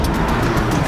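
A car engine accelerating hard on a test track in second gear up to about 60 mph, a loud continuous roar heard from inside the car without any voices.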